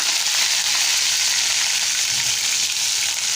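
Mustard seeds and curry leaves crackle and sizzle in hot oil, a loud, dense, continuous frying hiss close by while a Malvani-style tomato curry is cooked, with no one talking.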